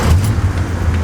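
A car engine restarting after running out of gas, a loud steady low rumble running throughout, close by with no talking.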